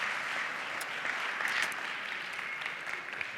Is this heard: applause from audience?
yes